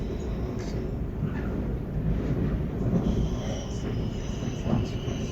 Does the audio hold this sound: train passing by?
yes